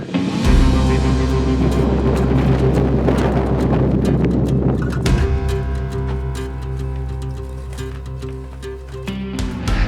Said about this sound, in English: The wind is blowing like hell today